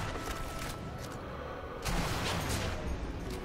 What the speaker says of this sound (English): I just shot an explosion?